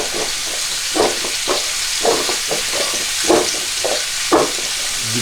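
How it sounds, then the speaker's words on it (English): Steaks seasoned with smoked paprika, cumin and cayenne sizzle steadily in a pan on their second side, a constant hiss of frying broken by a few soft knocks and stirs. "So the steaks are on the second side."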